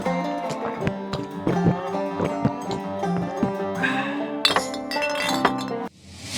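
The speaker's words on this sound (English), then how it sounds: "a guy drinks the whole bottle in one go and just rolls the bottle on the table" A glass beer bottle rolling across a table as an added commercial sound effect, a steady run of bright clinks and rattling glass taps with a louder burst near the end before a brief drop-off.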